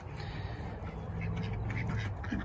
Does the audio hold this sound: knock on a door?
no